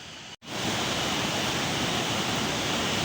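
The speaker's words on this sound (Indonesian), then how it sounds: "suara deru air sungai ini benar-benar menambah syahdu dari tempat ini" Rushing river water beside a forest cafe makes a dense, constant broadband roar after a brief dropout at the start, loud and close with no talk.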